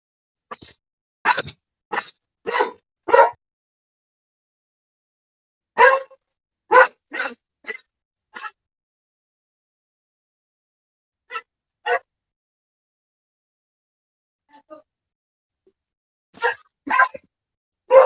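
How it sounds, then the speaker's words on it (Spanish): A dog barks nearby in short clusters of sharp, quick barks, separated by long silent gaps, with a few isolated single barks between the bursts. "es que siempre en mis radios suena guau guau"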